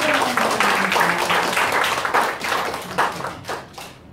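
A church congregation claps together during a Sunday Pentecost service, a dense run of hand claps that holds steady for a few seconds and then thins out toward the end.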